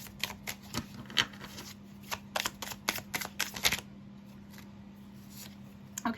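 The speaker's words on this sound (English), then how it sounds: "I'm going to shuffle a separate tarot deck" A tarot deck is shuffled close by in quick papery riffling bursts separated by short pauses, over a faint steady hum.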